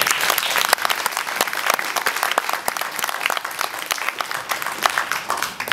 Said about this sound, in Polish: duże brawa dla was